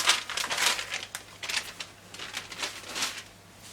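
Scissors cut through fabric for a padded blouse, giving a run of soft, crisp snips and rustles of cloth at close range, steady and quiet with no talk.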